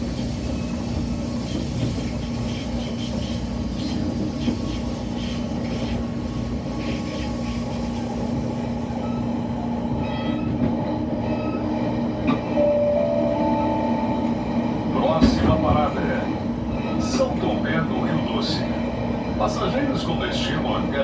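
Vale passenger train halted at a station stop, with a loud continuous engine and ventilation rumble throughout and a Portuguese platform announcement voice speaking over it.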